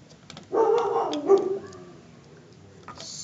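A dog outside gives a short burst of barking and yips, somewhat muffled and at a moderate distance, fading to quiet background.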